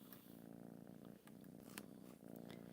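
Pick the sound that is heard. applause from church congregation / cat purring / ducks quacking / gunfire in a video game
cat purring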